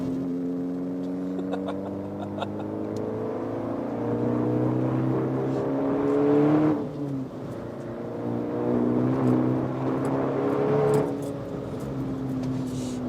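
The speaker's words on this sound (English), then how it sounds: "This is literally the way the car was intended to drive." A car drives along steadily with its engine droning and rising in pitch, revving up twice in strong sweeps. No one speaks.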